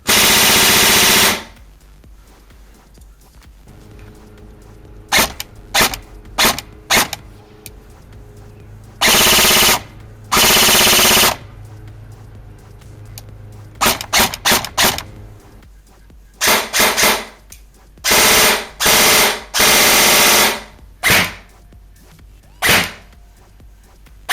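A full-metal Bolt B4 SOPMOD recoil airsoft electric gun fires in sharp bursts and single shots, loud and close, each burst a rapid mechanical clatter from the recoil gearbox, with quiet pauses between.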